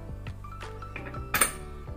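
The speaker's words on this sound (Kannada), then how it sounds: "ಈಗ ಕುಕ್ಕರ್ನ ಲಿಡ್ ಕ್ಲೋಸ್ ಮಾಡಿ 3 ವಿಸಿಲ್ ಕೊಡುವ" A pressure cooker lid being closed over ridge gourd dal, giving a few close metallic clinks and clatters with one brighter scrape near the end and no speech.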